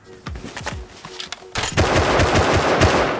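Gunfire in the video game Rust: a few separate shots at first, then sustained rapid automatic bursts that grow much louder and denser in the second half, with no talking.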